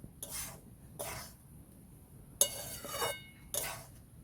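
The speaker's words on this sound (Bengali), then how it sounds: "ভালো করে নেড়ে চেড়ে ভেজে নেব।" Gram flour (besan) frying in a pan is stirred and scraped in four short bursts, with quiet gaps between the strokes.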